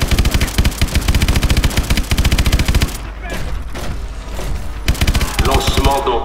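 Rapid, loud bursts of heavy automatic gunfire from a main cannon in Call of Duty: Advanced Warfare, a futuristic first-person shooter. Dense volleys stop and start, then gaps appear between shorter bursts.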